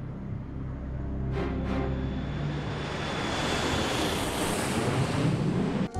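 Airbus A320 jet engines at take-off thrust make a steady, loud, broadband roar that builds slightly over the seconds, with a faint high whine throughout.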